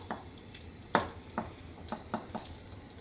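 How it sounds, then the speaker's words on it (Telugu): Soaked, washed rice and moong dal mixture dropped into a pot of water for pongal, making a few soft separate splashes and plops in a steady sequence, close and quiet with no talking. "ఇప్పుడు ఈ వాటర్లో నానబెట్టి కడిగి పెట్టుకున్న ఈ రైసు పెసరపప్పు మిశ్రమాన్ని మనం ఇందులో వేస్తాం."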